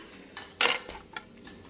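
Metal utensils and plates clink in a home kitchen as dishes are gathered up, a few sharp clattering knocks with one louder clang in the middle, close and with no talk.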